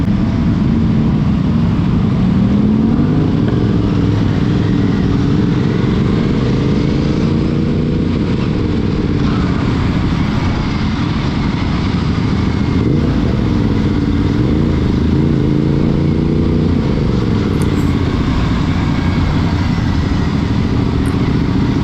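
An Aprilia Tuono motorcycle rides along an empty road on a Sunday morning, its engine a loud, continuous drone with rising and falling pitch as it accelerates and shifts, heard up close with wind rush.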